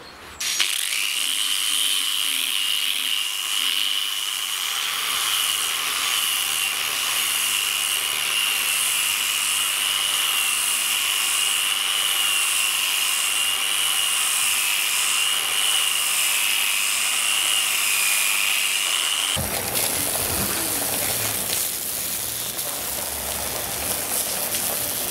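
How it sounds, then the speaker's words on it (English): A forklift carrying a hand-carved wooden street sign runs with a steady mechanical whine and engine drone for about twenty seconds, then the motor drops away into rougher outdoor rumble; close and continuous, no talk. "So I've got it loaded on the forklift."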